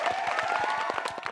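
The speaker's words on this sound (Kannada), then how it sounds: "ಬರ್ರಿ ಜೋರ ಚಪ್ಪಾಳೆ" A studio audience on a television family game show claps for the round's winner, with brisk, rhythmic hand claps from a small group, fairly close and loud, and no talk over them.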